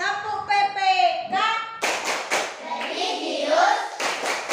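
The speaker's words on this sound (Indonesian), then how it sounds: "anak-anak semua berdiri untuk melakukan tepuk PPK" Schoolchildren standing in an Indonesian classroom clap the tepuk PPK chant pattern, rhythmic bursts of hand claps mixed with their shouted chanting voices and a teacher's voice leading.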